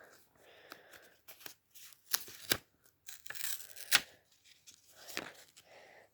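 A small plastic bag handled and opened while making a fidget board, with quiet crinkling rustles and a few sharper crackles in irregular bursts, close and soft.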